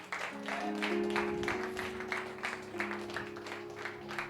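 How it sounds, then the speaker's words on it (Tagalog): A church congregation claps together in a dense, steady burst of applause lasting several seconds, with sustained musical tones ringing underneath. "Palakpak na para sa Diyos."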